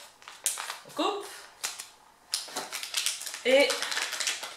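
Scissors snip through a package being cut open, several quick rasping cuts mixed with crinkling packaging and handling noise, close and fairly loud, with a person talking in French in between.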